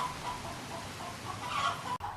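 A dozen chickens clucking in short, scattered calls, fairly faint over a steady outdoor background hiss.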